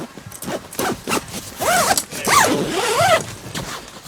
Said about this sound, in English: I just zipped it